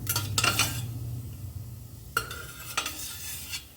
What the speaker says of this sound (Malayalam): നമ്മളിത് കുക്കറിൽ നിന്ന് ഇങ്ങനെ കോരി മാറ്റുകയാണ്.